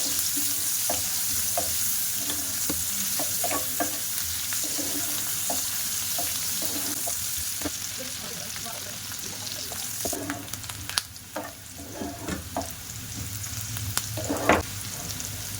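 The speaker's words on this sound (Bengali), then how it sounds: "দুটো মিডিয়াম সাইজের পেঁয়াজ কুচিয়ে দিলাম দিয়ে পেঁয়াজটা হালকা ভাজা ভাজা করে নেবো" Two medium onions, chopped, fry lightly in a pan for a milk chicken dish, a steady sizzle broken by repeated scraping stirs that grow busier and louder toward the end.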